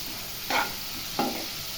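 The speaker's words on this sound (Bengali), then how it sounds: "ভালো করে নাড়তে হবে।" A utensil stirs prawn curry in a pan, two short scraping strokes about two-thirds of a second apart over a quiet, steady background hum.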